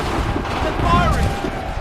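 Musket gunfire rumbles through an Assassin's Creed III battle, a loud, steady barrage of shots and booms with faint shouting voices mixed underneath.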